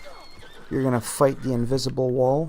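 A horse neighs repeatedly in Red Dead Redemption 2, loud whinnies close up, with someone talking over them.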